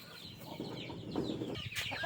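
Pet turkeys clucking and gobbling as they gather after being called, in a farmyard with chickens nearby; soft, scattered calls from several birds at moderate distance, steady and unhurried, with no talk.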